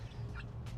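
A Cinnamon Queen chicken gives a brief cluck close by, a short throaty fowl call over low background noise.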